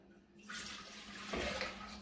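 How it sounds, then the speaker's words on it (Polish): Water poured into a cooking pot for pumpkin cream soup broth, starting quietly and swelling into a steady, full splashing rush that grows louder and more hollow as the pot fills, heard alone at close range. "do garnka wlewamy naszą wodę"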